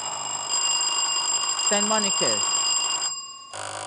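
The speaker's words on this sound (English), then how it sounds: "When you are ready, you ring the bell to alert me." Quiz contestants sound their buzzers in a school science contest: a sustained electronic tone rings for about three seconds and then cuts out abruptly, while a voice briefly calls out partway through.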